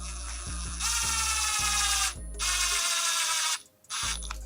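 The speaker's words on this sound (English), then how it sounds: "I'm going to run in our bolts with an impact, but I'm not going to tighten it with the impact." An impact wrench runs in bolts on a Kawasaki KFX450R engine, in close, loud bursts of rapid hammering rattle with short pauses between them.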